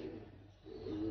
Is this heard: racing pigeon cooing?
yes